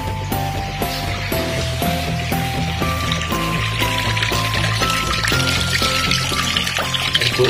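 Water pours steadily from a tap or pipe and fills a container, a loud continuous stream with a shifting tone and rhythmic clicking, close by and with no voices.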